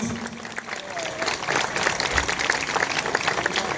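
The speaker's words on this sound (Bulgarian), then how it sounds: "Силни аплодисменти за мъже 19-29." Applause from the audience at a municipal award ceremony in Kazanlak, a steady wash of clapping held throughout at fairly close range, with a faint voice underneath.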